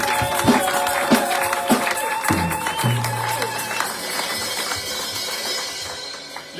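A church congregation cheering and acclaiming, with clapping, shouts and sustained voices blending into a lively, reverberant wash that slowly thins out.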